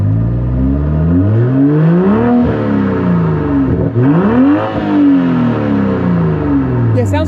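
2023 Toyota Supra with a titanium exhaust and closed exhaust valves, revved several times up and down, a loud, close, muffled rising and falling drone with strong harmonic sweeps.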